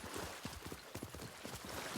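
Rapid rhythmic hoofbeats of a galloping horse in the video game Ghost of Tsushima, steady and fairly loud over a noisy game background.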